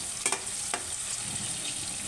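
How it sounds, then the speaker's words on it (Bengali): Onions frying in a pan for a beef curry with lentils, a steady low sizzle throughout with two brief stirring clatters near the start. "পেঁয়াজটা বেশি ভাজা ভাজা করা লাগবে না, একটু নরম হলেই হবে"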